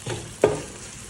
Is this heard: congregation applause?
no